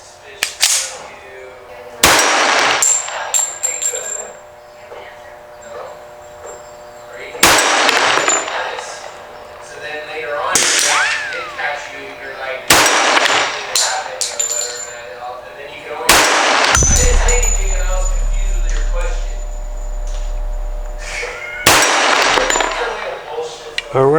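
Gunshots from a Sig Sauer 1911 .45 pistol at a shooting range, about eight loud, sharp single reports spaced a few seconds apart, each followed by ringing echo and range noise in between.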